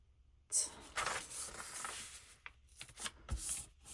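Paper crackling and rustling as a page from a French mathematics book is folded by hand, with several crisp creases and shuffling bursts, close and fairly quiet.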